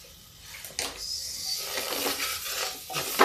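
Tomatoes go into a pan of potato and cauliflower, with metallic clinks and scraping of a utensil against the pan, a sharp clatter near the start and a few knocks at the end, no voices.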